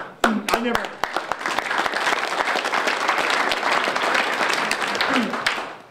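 Crowd applause at a political campaign kickoff, a full sustained clapping wash from many people with sharp individual claps standing out and a few voices and cheers mixed in before it fades.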